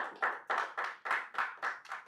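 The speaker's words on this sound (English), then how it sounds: "I think you should clap at this point." Audience clapping at a CEO investment masterclass retreat in Doha: a steady run of about eight evenly spaced clap bursts over two seconds, fairly close, with no talk over it.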